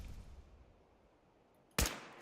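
A single sharp rifle headshot from the Overseer's Guardian in Fallout 4 cracks out loud and close after a quiet stretch of faint game ambience, ringing briefly.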